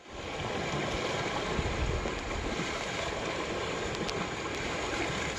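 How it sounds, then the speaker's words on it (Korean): Ocean waves rolling onto the shore of a quiet Korean island, Dumido near Tongyeong, form a loud, steady, broadband wash of surf with wind, continuous throughout and with no talking. "바다 소리가 아주 파도 치는 소리가 너무 크게 들리는 느낌이에요"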